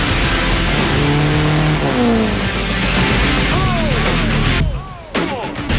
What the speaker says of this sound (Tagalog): Gamit ang isang 4x4 pickup truck, mag-aala roller coaster itong aakyat sa mga sand dune.